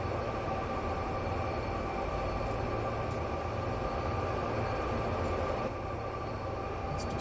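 Heavy freight train on Sherman Hill in Train Sim World 2 rumbling steadily with a dense low drone and faint high whine, continuous and close throughout with no talk.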